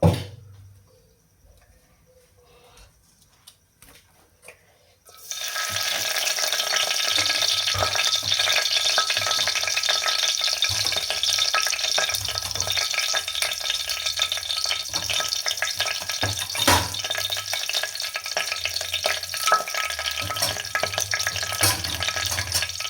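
Whole spices dropped into plenty of hot oil in a small pressure cooker. After a few quiet seconds, a loud, steady sizzle starts abruptly and keeps crackling evenly to the end.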